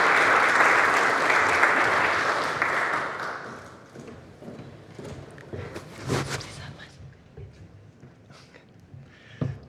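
Audience applause at an ESG conference in Portugal, a dense burst of clapping that fades out after a few seconds, followed by someone speaking with scattered small taps.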